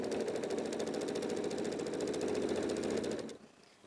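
A sewing machine stitches in the ditch along the seams of a quilt in a fast, even run of needle strokes, then stops abruptly near the end, leaving quiet.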